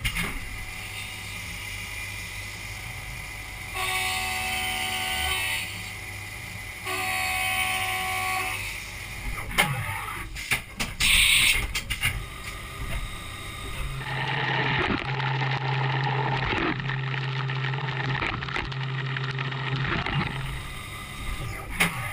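A CNC mill cuts a desktop lamp part, with whining tonal bursts from the spindle and axis motors, stop-start pauses, and a sustained cutting drone in the second half.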